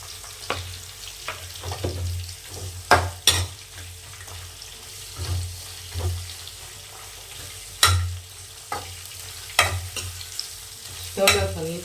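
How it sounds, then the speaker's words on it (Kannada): Green chilies and onion frying in oil in a home kitchen pan, with a steady low sizzle under repeated sharp scrapes and clinks of a stirring spoon, close and fairly loud. "ಎಣ್ಣೆಲಿ ಚೆನ್ನಾಗಿ ಫ್ರೈ ಆಗಬೇಕು ಮೆಣಸಿನ್ಕಾಯಿ. ಈಗ ಈರುಳ್ಳಿ ಹಾಕ್ತಾಯಿದ್ದೀನಿ."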